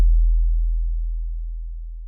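A synthesized sine-wave kick drum designed in Ableton, like an 808, plays as a single deep low tone that fades slowly over about two seconds on a long release, with nothing else heard.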